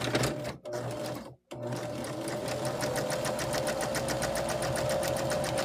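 A sewing machine quilts down a Valentine's mug rug with a loud, close, rapid stitching rhythm, broken by two quick stops early on before running steadily to the end.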